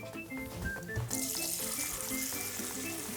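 Water pours from a tap into a cooking pot in a home kitchen while soup is being made, a steady close rushing stream with light splashing and faint sizzling nearby.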